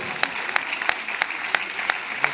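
A seminar audience claps in steady, evenly spaced single beats, about seven sharp claps in a row, fairly close and clear with no talking.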